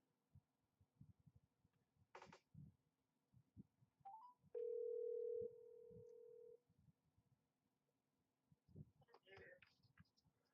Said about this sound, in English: let me get on the phone to Richard